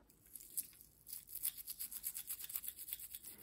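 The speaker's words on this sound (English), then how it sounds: "Give it a little scrub." Soft brush scrubbing a vintage porcelain trinket box, quiet close rhythmic bristle strokes speeding into steady back-and-forth rubbing, with no voice.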